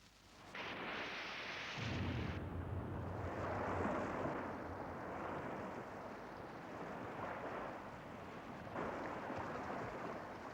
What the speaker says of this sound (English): many bombs are exploded uselessly, causing serious damage to the environment